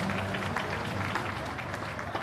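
Audience applause fills a business forum hall in Kwahu, a steady dense clapping that runs unbroken and fairly loud for the whole stretch, with a murmur of crowd beneath it.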